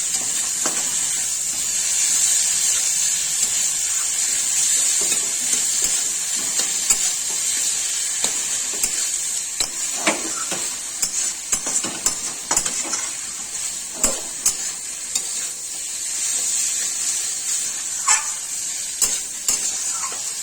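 Ghee added to a vegetarian curry of potato, soy chunks and banana flower sizzles steadily in the pan with a constant hiss, while a spoon scrapes and stirs in scattered clicks, close up.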